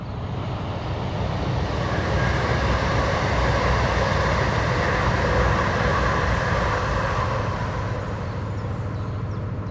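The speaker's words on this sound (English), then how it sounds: "I can hear a train coming." An electric train passes close by a railway line running beside the Macclesfield Canal, a steady loud rumble and hum that holds at full strength for the whole stretch with no voices.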